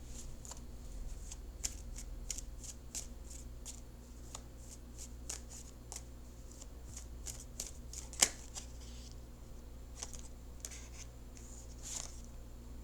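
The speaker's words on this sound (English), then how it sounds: "let me shuffle for a few more seconds" A deck of tarot cards is shuffled by hand, quiet rhythmic riffling flicks repeating for several seconds with a sharper snap near the end, close and soft against a low room hum.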